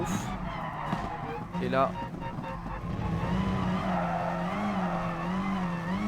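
A race car in Gran Turismo Sport braking hard, its tires squealing in a wavering skid under a loud engine drone, while someone talks over it.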